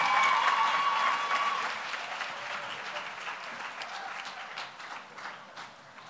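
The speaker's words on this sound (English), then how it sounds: "a huge round of applause for all the poets in the first round" Audience applause at a poetry slam, a loud, dense burst of clapping that gradually thins and softens over several seconds without settling into a rhythm.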